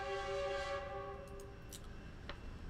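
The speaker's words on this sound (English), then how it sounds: "I'll let the train pass." A train at a railroad crossing sounds a loud steady horn chord that fades out after about a second, leaving a low rumbling roll with a few sharp clanks.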